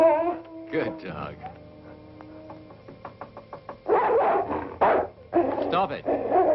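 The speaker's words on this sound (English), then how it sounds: "Good dog." A dog barks and yips in several close, loud bursts toward the end, mixed with whimpering tones and voices in an old 1961 horror film soundtrack.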